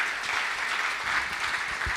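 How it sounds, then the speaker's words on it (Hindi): Sustained applause from an audience at a Hindi poetry recital (kavi sammelan), dense steady clapping throughout with no speech over it. "एक बार अर्जुन भाई के लिए तालियां बजाओ जोरदार।"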